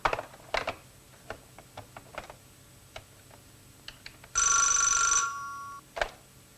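Telephone bell rings once in a loud, sustained electric trill, preceded by scattered ticking and clicking sounds in a quiet room.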